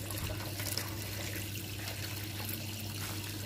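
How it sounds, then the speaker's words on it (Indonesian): Hydroponic nutrient solution flows through the growing installation as a steady, soft rush and trickle of water, continuous and unbroken over a low background hum. "Air nutrisi sudah mengalir ke instalasi ya."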